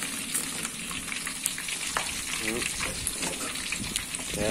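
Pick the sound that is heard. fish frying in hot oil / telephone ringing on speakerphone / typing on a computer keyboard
fish frying in hot oil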